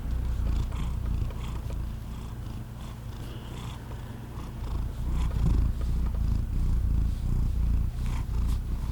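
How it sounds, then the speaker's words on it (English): A pet female cat, once a stray, purrs steadily up close in a low, rhythmic rumble that rises and falls with her breathing. "Let's see if I can get her to purr."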